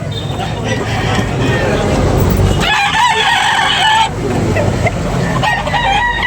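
A large rooster crows loudly partway through, a single drawn-out call over someone talking and background noise.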